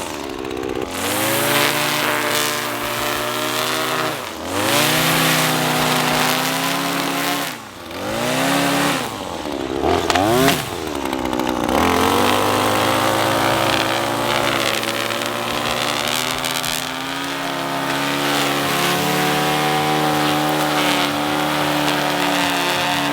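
A string trimmer flip-edges along a sidewalk edge, its loud whining motor rising and dipping in pitch as the throttle is eased and opened several times, a continuous close buzz with no talk.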